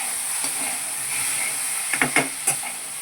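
Potato pieces frying in a pan for sabudana khichdi, a steady soft sizzle with a few sharp stirring scrapes near the end, no voices.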